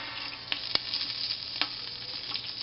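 Bacon frying in a pot with the lid just removed, a steady dense sizzle with a few sharp pops and crackles, close and continuous with no talk.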